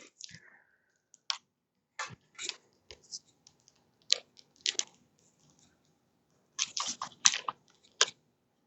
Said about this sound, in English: we're going to type in the equation to the y equals screen